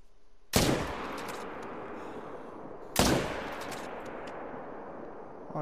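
Two loud rifle shots fired at bull elk in a hunting video game, each a sharp crack followed by a long rolling echo, spaced about two and a half seconds apart.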